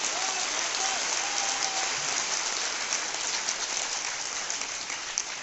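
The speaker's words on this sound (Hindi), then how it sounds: "तालियां हो जाए LIC के लिए।" Audience applause at a talk about LIC's life fund, a steady dense wash of clapping held at an even level throughout, with a faint voice briefly audible early on.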